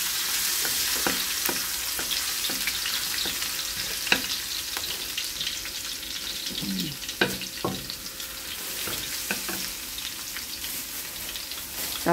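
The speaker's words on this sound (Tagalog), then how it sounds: "Nagpainit na po ako ng mantika. Sunod po ay bawang." Garlic sautés in hot oil in a pan for a shrimp and squash-shoot stir-fry. A loud, continuous sizzle runs throughout, with scattered crackles and small pops on top.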